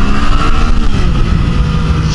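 A 2014 Yamaha MT-09 (FZ-09) motorcycle engine pulls under throttle on a test ride, a loud, steady low drone with mixed-in wind rush that stays continuous and close for the whole moment.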